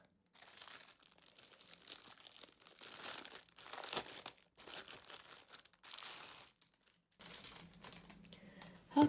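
Packaging crinkles and tears open close by as a paint-by-numbers kit box is unwrapped, in several loud crumpling bursts separated by brief pauses, with no talking.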